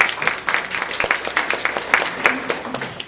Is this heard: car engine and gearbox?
no